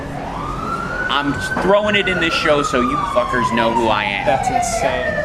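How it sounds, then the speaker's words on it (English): An ambulance siren passing outside wails steadily in the background, its long tone slowly falling in pitch, while people talk over it up close. "Sorry about the ambulance noise."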